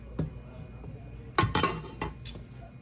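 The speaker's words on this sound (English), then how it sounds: "I'm getting ready to put my gnocchi in here and see if I need to add any more liquid." One pound of gnocchi tumbles into a pot of mushroom soup, heard as a few separate clattering, clinking bursts against the pot and utensils, moderately close.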